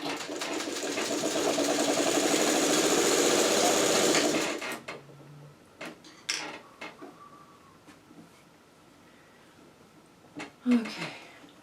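A sewing machine stitches the last seam of a churn dash quilt with a loud, steady mechanical whir for about four seconds and then stops abruptly. After it stops there are scattered small clicks and handling sounds and a few brief soft voices.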